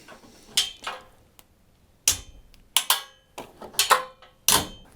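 A RockHard 4x4 swing-out tire carrier on a Jeep TJ is latched shut, producing a series of sharp metallic clicks and clunks, some spaced apart and some in quick pairs, with no talking.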